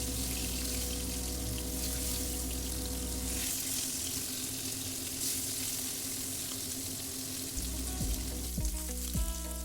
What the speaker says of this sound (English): we will flip the fish pieces so that both the sides are fried well